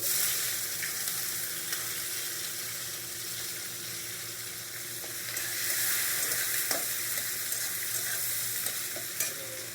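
Chopped onions with peppercorns and cloves fry in a pan for rajma, giving a dense, continuous loud sizzle with occasional faint spatula stirs underneath.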